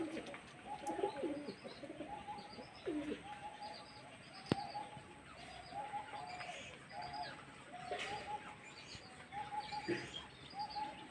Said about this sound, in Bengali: এই 4টে পায়রা উঠছে দেখুন।